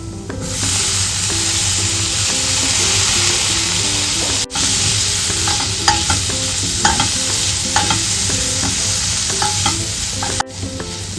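Chopped tomatoes fry with masala for chana masala, a loud continuous sizzle under brisk, regular stirring scrapes, with faint music in the background.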